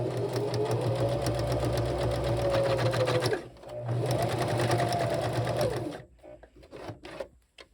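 A sewing machine stitches a shirt onto a memory towel in two steady motorized runs, pausing briefly in the middle and stopping near the end, leaving quiet handling noises.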